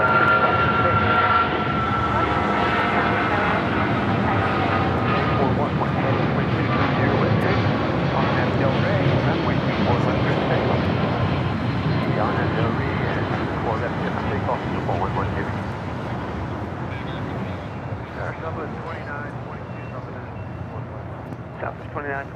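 Airplanes arriving and departing at LAX airport: a loud, sustained engine roar runs through the whole stretch and slowly fades toward the end, with no talk.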